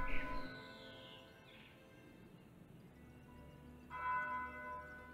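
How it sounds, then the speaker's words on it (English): A single church bell in a video game, The Lion Song, tolls with a long, ringing decay, then strikes again near the end over a quiet, low ambient hum. "Okay, so I guess we're just listening to the bell ring."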